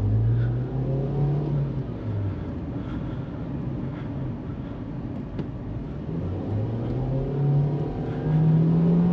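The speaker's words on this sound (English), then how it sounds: "Just listen to the sound of me driving." A 2024 Nissan Kicks 4-cylinder engine hums steadily while driving, with low rumbling tones that rise and fall as it shifts and accelerates, close and continuous throughout.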